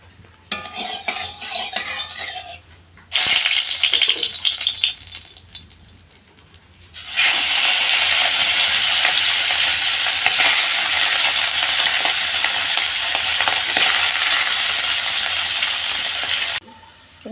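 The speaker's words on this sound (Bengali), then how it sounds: "তেলও গরম হয়ে গেছে। মাছগুলো এখন ভেজে নেবো।" Fish frying in hot oil on a home stove gives a loud, steady sizzle that runs for several seconds, drops away briefly, then returns strongly. Faint utensil clinks are heard near the start.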